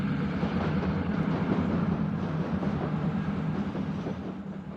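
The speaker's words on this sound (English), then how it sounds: "Here, a westbound City of Los Angeles is heading to the crossing of the SP tracks at Colton Tower." A westbound Union Pacific City of Los Angeles passenger train approaching the crossing of the SP tracks at Colton Tower, a steady loud rumble with rail clatter running throughout and no voices.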